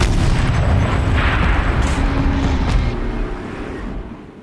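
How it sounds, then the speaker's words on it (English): A tank turret fires in the game Horizon Zero Dawn, a heavy booming blast that rumbles loudly and slowly fades over several seconds. "Rotate turret! And fire!"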